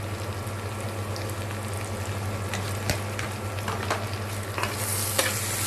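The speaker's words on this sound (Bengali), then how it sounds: "মশলা ভালো করে কষায় নিচ্ছি।" Spices with turmeric and salt sizzle and fry in a pan for beef curry, a steady broadband hiss with scattered stirring scrapes and crackles, close and continuous without talk.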